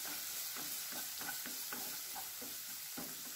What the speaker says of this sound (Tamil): இப்போ தக்காளியை நல்லா வதங்கிடுது.